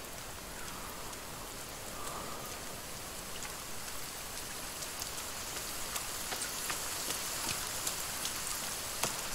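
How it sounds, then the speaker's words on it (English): Steady rain pours down across the island in the survival game The Forest, a dense continuous hiss with scattered drops ticking louder near the end, heard alone without talk. "Why does it always have to frickin' rain on this island?"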